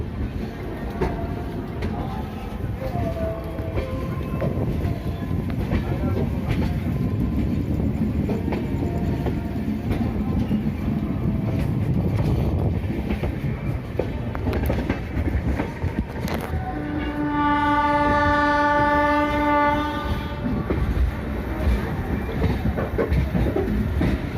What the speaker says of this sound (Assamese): টাৰ্ণিং ল'ব এতিয়া ট্ৰেইন, আমাৰ এতিয়া ট্ৰেইন টাৰ্ণিং ল'ব।